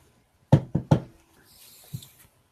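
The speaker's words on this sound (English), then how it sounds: "go up to the door, knock on the door, and see if he answers." Three quick, solid knocks on a door, followed by a brief quiet pause, a faint shuffle and one softer thud.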